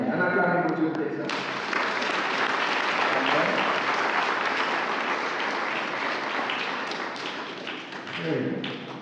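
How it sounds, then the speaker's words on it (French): A church congregation breaks into sustained applause and cheering for God, dense clapping filling several seconds at close range, with voices mixed into the crowd noise and a brief spoken moment at the start. "On acclame pour Dieu pour ça."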